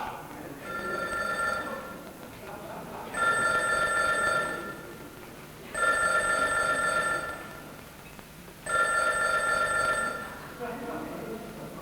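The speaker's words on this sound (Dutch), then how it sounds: "Telefoon voor mevrouw Hotsermans" Repeated telephone bell ringing in bursts, about four rings spaced a couple of seconds apart, loud and clear, with a voice making an announcement in Dutch and background chatter during and between the rings.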